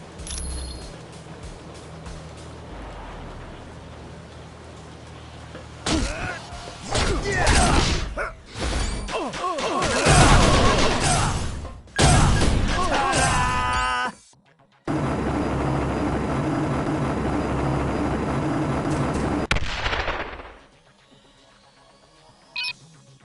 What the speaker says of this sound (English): a helicopter keeps strafing the deck